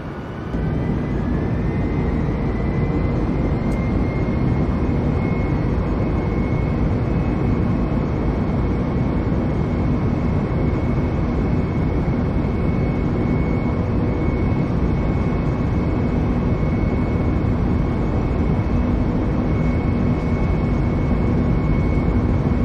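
An airliner on flight Cactus 1549 rolls down runway 4 at New York for takeoff, producing a loud, steady, continuous jet-engine roar that holds evenly throughout.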